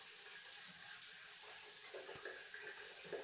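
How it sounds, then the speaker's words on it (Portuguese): Water runs from a pipe into a small tank box that feeds a shower, a soft steady hiss and trickle of filling, fairly faint and continuous with no talking. "Aí agora nós vamos abrir aqui, ó, pra encher a caixinha de água. A caixinha tá enchendo."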